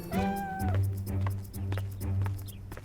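A cat lets out a high, drawn-out meow near the microphone, followed by lower steady purring or humming sounds and soft clicks.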